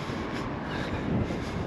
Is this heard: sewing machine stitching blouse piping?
no